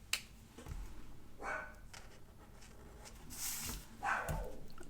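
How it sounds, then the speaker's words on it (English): A dog barks from another room, a few muffled, distant yips coming at irregular intervals over quiet room noise. "I let her out of the room and now she's barking"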